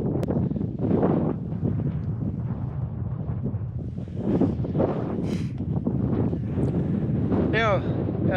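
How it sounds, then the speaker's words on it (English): Wind gusts across a coastal campsite by a tent, a steady broadband rush that swells and eases, with a person talking over it. "Wind has picked up a little bit"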